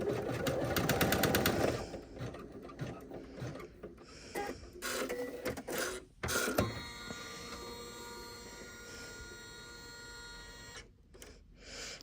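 An embroidery sewing machine stitches a zipper tab tack top stitch, a fast mechanical rattle at first, then intermittent whirring and clicking bursts with short pauses, close and steady, with no talk.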